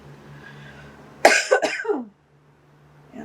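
A single harsh cough with a short rasping follow-through, close and fairly loud, set against a faint steady hum and then near silence.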